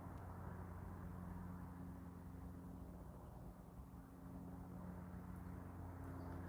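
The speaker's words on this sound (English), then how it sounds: "I can hear what sounds like an airplane, what sounds like cars rushing by" Outdoor ambience with a distant airplane and cars rushing by, a low continuous rumble and steady hum from traffic and aircraft, heard alone without talk.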